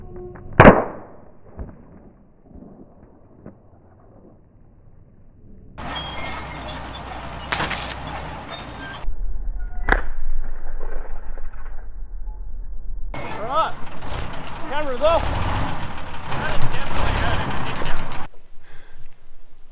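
A winch rope snaps under maximum stretch with a single sharp, loud crack near the start, followed by quieter stretches and bursts of rough, rumbling noise.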